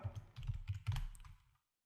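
Rapid keystrokes on a computer keyboard, a quick run of soft, close clicks lasting about a second and a half before falling silent, with no talking.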